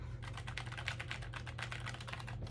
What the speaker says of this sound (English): mechanical mini keyboard.